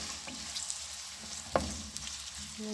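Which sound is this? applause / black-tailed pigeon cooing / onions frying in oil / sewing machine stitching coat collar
onions frying in oil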